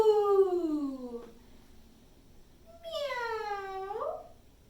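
A person voices two drawn-out cat-like meows, imitating a cat during a Halloween yoga pose. The first call falls away, and after a short quiet gap a rising, wavering second call follows. Both are clear and close.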